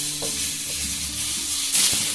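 Onions frying in oil in a pan for a spicy small-fish curry hiss steadily up close, with light stirring scrapes and a brief louder burst of sizzle near the end.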